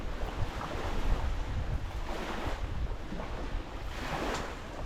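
Waves wash steadily onto a tiny hidden beach with a tree swing, a continuous soft surf roar mixed with breezy wind buffeting the microphone and no talking.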